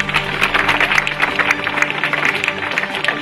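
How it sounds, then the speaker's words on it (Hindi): An audience at an indoor gathering claps loudly and steadily for about three seconds, a dense, even patter of many hands without pause. "सबसे तो पहले सब जोरदार तालियां बजाइए इनके लिए।"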